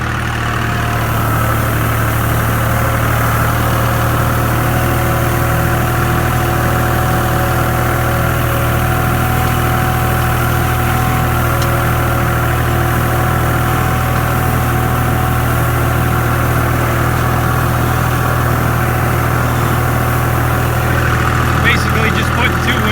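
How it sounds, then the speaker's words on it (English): A tractor pulling a hay rake while raking hay into doubled windrows, its engine droning steadily and close for the whole stretch with a constant low hum, no voices. "guys, we're raking hay today. Trying out this hay rake that I bought."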